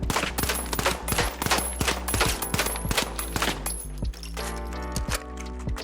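Rapid, evenly spaced shots ring out from the mag weapon in the video game The Finals, loud and close in a steady stream of sharp cracks with brief pauses and a clinking tail.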